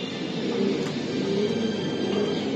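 Racing pigeons coo softly in a low, repeating murmur that sits amid a steady, noisy background hum, with no talking heard.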